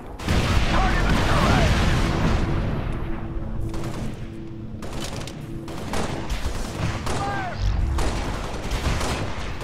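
Rifle gunfire in Halo Spartan Assault, sustained bursts of shots and explosions with game effects, loud and busy, with someone talking over the action.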